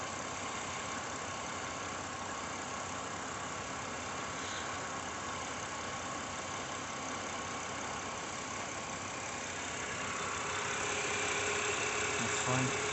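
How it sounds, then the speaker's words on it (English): A used car's engine idles during a pre-purchase inspection, a steady, even running hum that continues unchanged and fairly close, with no talk over it. "The engine's been running for a while."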